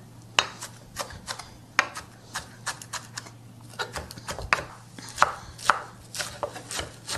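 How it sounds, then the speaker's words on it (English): Knife chopping herbs roughly on a board: a run of sharp, irregular close taps, some louder than others, alone over a low steady hum. "So just roughly chopped, all the herbs go there."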